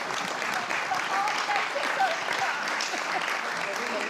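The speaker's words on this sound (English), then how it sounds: "I love that the harp got a round of applause there as well" A round of applause at a live music showcase, given to a harp performance: steady, moderately distant clapping from an audience, even in level across the whole stretch.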